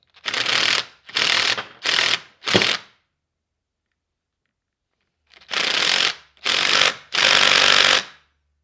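Ratchet tightening a nut on a Suzuki DR350 engine: four short, loud bursts of ratcheting clicks, a pause of silence, then three more longer bursts, close up and alone.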